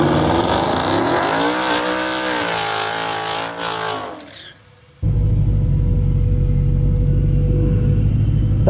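A twin-turbo 2020 Mustang GT launches down a quarter-mile dragstrip at an NMRA event, its engine roaring loudly and climbing in pitch, then dropping away before a sudden, sustained, heavy broadband rumble takes over.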